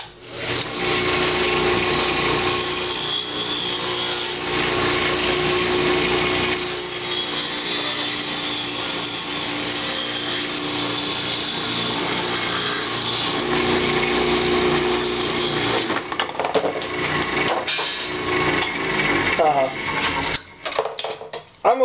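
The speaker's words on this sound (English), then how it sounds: "I got my hacksaw and I'm just gonna part it off like this." A hacksaw parts a wooden carver's mallet off the woodturning stock in steady back-and-forth strokes, loud and close, rasping continuously for most of the time before breaking into a few short, uneven cuts at the end.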